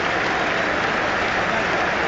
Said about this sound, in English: Sympathetic applause from all sides, including a number of the Chelsea supporters away to our right.